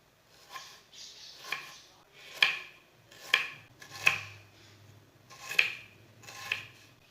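Knife finely chopping medium-sized onions on a board for pakoras, a series of sharp, close taps spaced out at an uneven pace, with quieter rubbing in between.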